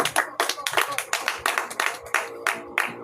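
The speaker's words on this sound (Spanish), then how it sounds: "Denle un aplauso al Señor" A church congregation claps for the Lord after a Spanish sermon line, a brisk run of about a dozen sharp, fairly close handclaps in a steady rhythm, with no talk over it.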